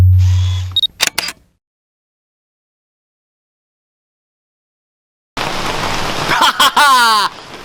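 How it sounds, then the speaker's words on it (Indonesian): Heavy rain near a waterfall in Purwakarta, a loud steady hiss in two stretches broken by a long silent gap, with camera clicks and handling noise around it. "hujan besar."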